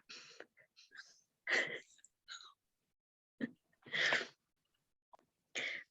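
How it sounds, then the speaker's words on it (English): A person sniffling repeatedly at close range, with several short, breathy bursts of sniffing separated by quiet gaps and no talking. "Doesn't like to blow his nose. He just likes to sniff."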